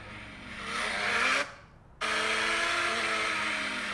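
A loud dirt bike engine roars steadily, cuts off briefly for about half a second, then surges back at full volume and holds.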